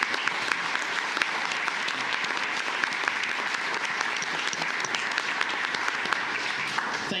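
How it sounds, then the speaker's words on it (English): Steady, dense applause from a county commissioners court audience honoring a long-serving county employee, sustained and even throughout with sharp individual claps scattered across the crowd. "again, a big round of applause"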